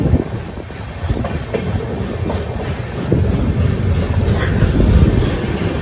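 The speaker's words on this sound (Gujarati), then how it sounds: "હવે આપણી ટ્રેન પહોંચવા આવી છે" Passenger train running on rails as it nears Haridwar, heard from inside the coach as a loud, continuous rumble with rhythmic clickety-clack of wheels over rail joints, swelling slightly toward the end.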